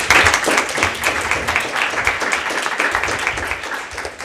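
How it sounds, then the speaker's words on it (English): An audience at a university seminar on depression in Wellington gives a panel sustained, dense applause that stays loud and even throughout without talk. "Can we give them a round of applause for it?"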